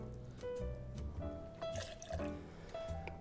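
Pineapple juice being poured for a Singapore Sling cocktail, a quiet close liquid gurgle with bubbly, pitched glugs and drips as the glass fills.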